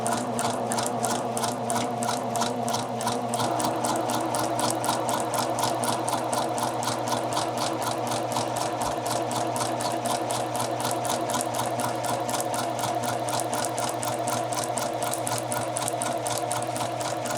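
A domestic sewing machine stitches a curved jacket sleeve cap seam at a 3/8 inch allowance, humming steadily and loudly, its rapid even needle rhythm running unbroken and up close.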